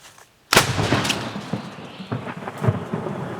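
An artillery gun fires near Kherson: a sudden loud boom bursts out of near silence, followed by a long rumbling, crackling roll that fades unevenly over several seconds.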